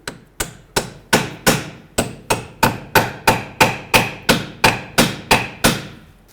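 A hammer taps bolts into a front steering knuckle on a 2010-2017 Chevrolet Equinox: about seventeen sharp metallic strikes in a steady, even rhythm, close and loud, with no talking.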